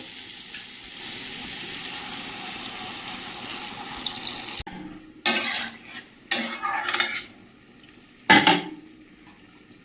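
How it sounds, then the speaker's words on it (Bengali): Fried vegetables sizzle steadily in a pan, then water is poured in, cutting the fry and followed by several bursts of bubbling, hissing and splashing, close and clear. "এবার জল দিয়ে দেবো।"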